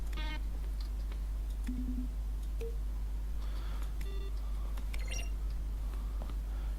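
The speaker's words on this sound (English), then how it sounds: "Each sound is a mix of a keyboard stroke and a synthesizer tone." Button presses in The Stanley Parable, each a keyboard stroke blended with a short synthesizer tone, heard as a few scattered soft beeps and clicks over a steady low hum.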